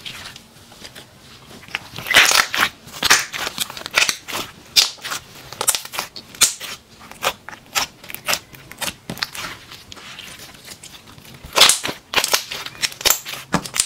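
Shiny black obsidian slime is poked and squeezed close up, giving a rapid, irregular series of loud, crisp pops and sticky clicks throughout.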